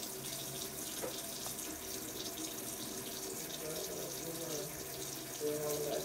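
Water runs steadily from a tap into a sink for washing, a continuous even rush that fills the whole stretch at moderate loudness.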